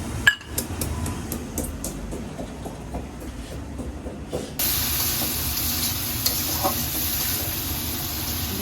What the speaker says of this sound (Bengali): জিরা গরম মশলাটা বেটে নিই